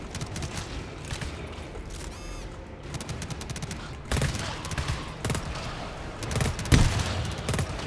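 Rapid bursts of automated turret gunfire in the co-op horror shooter GTFO, clustered volleys of sharp cracks over a dense, noisy game mix, with heavier shots near the end.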